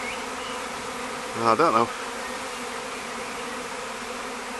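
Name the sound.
swarm of bees buzzing near a hive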